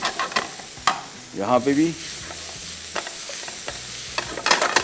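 Coriander being stirred through a spiced beef filling in a hot pan, with a steady sizzle, scraping spoon strokes and a short burst of nearby talk partway through.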